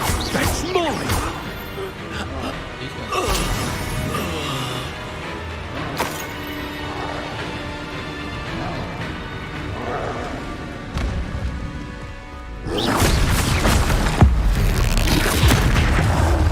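Spell explosions from the Hogwarts Legacy video game burst out as loud booms and crashes, several impacts spread through the stretch, with a dense volley near the end and game voices speaking between them.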